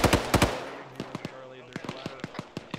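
Video game gunfire in a military simulation: two heavy close shots open, followed by a series of fainter, more distant single shots and short bursts at irregular intervals.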